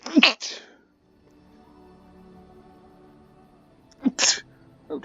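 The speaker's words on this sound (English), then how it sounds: "I had to sneeze." Two abrupt sneezes from a person, one at the start and one near the end, loud and close, with a quiet low hum between them.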